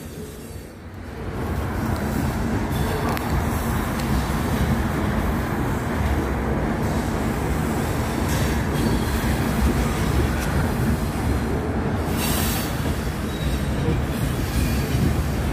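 An Exo commuter train rolls steadily through a rail yard near Mont-Saint-Hilaire, its wheels squealing and rumbling close by for the whole stretch with no talk.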